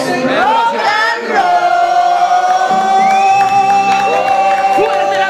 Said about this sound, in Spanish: Fuerte el aplauso para Lisa